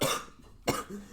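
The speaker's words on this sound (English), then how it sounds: "you're welcome for hearing me coughing" A person coughs twice in quick succession, close and loud, with a harsh burst at the start and another about half a second later, followed by a brief throaty rasp.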